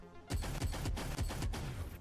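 Rapid animated gunfire in a RoboCop versus Judge Dredd battle, a steady burst of heavy, booming shots roughly every quarter second, loud and continuous.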